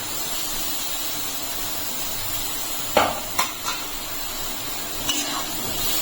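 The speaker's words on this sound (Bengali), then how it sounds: "এখন আমি এর মধ্যে দিয়ে দিচ্ছি পেঁপেটা" Papaya tipped into a pan of frying spices for a vegetarian papaya ghonto, a soft steady sizzle under a few brief clatters and scrapes, close and moderate in level.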